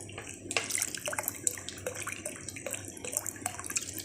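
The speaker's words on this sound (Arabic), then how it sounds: "ونزود بقى شويه ميه" Water trickles and splashes into a bowl of crushed garlic, coriander, cumin, salt and vinegar for a dressing, in uneven bursts of pouring and dripping that run for several seconds, close and fairly quiet.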